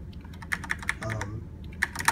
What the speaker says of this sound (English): This is a Corsair RGB strafe mechanical keyboard.